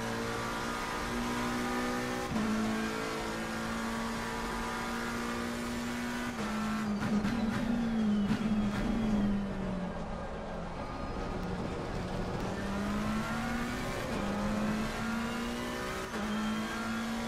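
A race car in Assetto Corsa Competizione circles the Hungaroring in practice, its engine droning steadily with repeated gear shifts and rises and falls in revs, loud and continuous.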